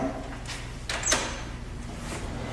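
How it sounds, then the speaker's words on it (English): A gallery door is unlocked and opened, heard as a short metallic scrape and latch click midway through, fairly close against a steady room background. "You unlock the door, which is very easy to do."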